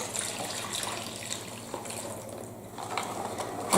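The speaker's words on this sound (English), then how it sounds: "we need to just get rid of the sterilising fluid" Sterilising fluid splashes and gushes as it is poured off medical instruments, a continuous close watery pour of moderate loudness with no talking.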